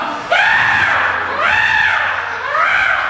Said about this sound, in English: He starts screaming on the Ferris wheel as it's going in circles.